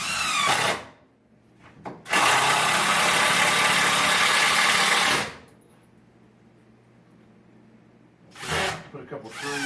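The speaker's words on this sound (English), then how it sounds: "Now we're going to screw that in place." A power driver runs screws into wooden framing boards for a gas fireplace wall, two loud sustained whirring bursts, the longer lasting about three seconds, with short quiet gaps between.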